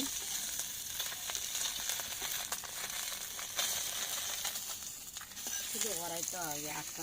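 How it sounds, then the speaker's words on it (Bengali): Taki fish frying in a pan, a close, steady crackling sizzle that runs throughout, with a voice briefly heard near the end. "এই যে এখন আবার টাকি মাছ ভাজি হইতেছে"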